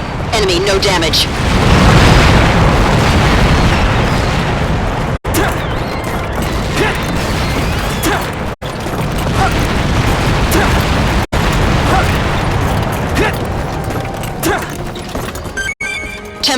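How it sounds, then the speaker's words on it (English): Loud, dense booming impacts and crashing blasts from cannon fire in the Earth Defense Force 2025 video game, continuous and heavy throughout with brief cut-offs, under game voice announcements. "Tempest fifth formation impact."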